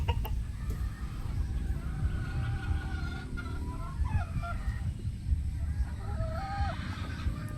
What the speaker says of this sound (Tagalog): Ito po yung mga pullets natin.